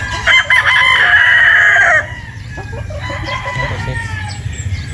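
Boston Roundhead gamefowl rooster crowing loud and close, one full crow over steady background noise followed by softer clucking and bird calls.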